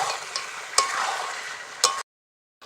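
Chicken with ginger-garlic paste frying and being stirred in a pan: a steady close sizzle broken by two sharp spatula knocks, then cutting off abruptly to silence.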